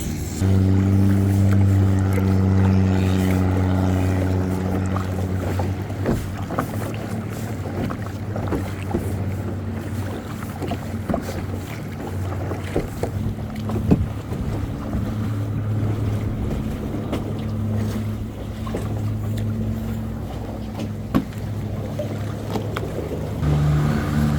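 A passenger boat engine near Krabi, Thailand, drones steadily and close, with wind buffeting and water rushing around the hull, the motor's hum easing slightly over time.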